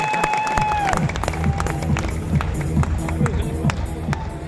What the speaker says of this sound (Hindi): इनके लिए भी जोरदार तालियां ना